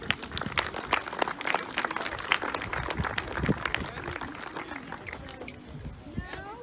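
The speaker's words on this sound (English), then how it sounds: "So give yourselves a round of applause" An audience claps and applauds outdoors at a school parking lot concert, a steady mix of many hands under a little talk, thinning slightly toward the end.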